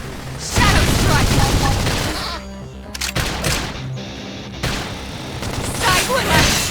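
Gunfire rattles through a Xenoblade Chronicles Definitive Edition battle, dense bursts of shots in two loud stretches separated by a quieter pause, with voices shouting over the fighting.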